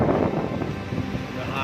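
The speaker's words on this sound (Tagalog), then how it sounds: "Hangin, malakas." Strong wind roars steadily and loudly outdoors in an area with trees, months after a typhoon, buffeting the microphone without a break.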